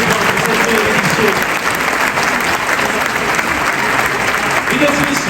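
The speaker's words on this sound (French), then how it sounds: "Vous pouvez applaudir l'équipe d'organisation qui vous accueille" A large conference audience in France applauding the organising team, a full, continuous roar of clapping over five seconds with faint voices and a few cheers mixed underneath, loud and spread wide across the hall.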